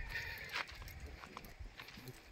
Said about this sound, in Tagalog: May mga farm din, may mga kabayo rin sila rito.